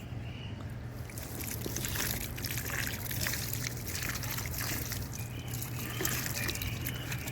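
Water is poured onto a newly planted stem cutting in a pot: a steady, close trickle and splash runs for several seconds with a low hum beneath.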